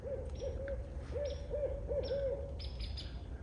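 Rhythmic hooting from a barred owl nearby in the woods, several bowed, repeated calls over a steady low hum, with faint higher chirps above.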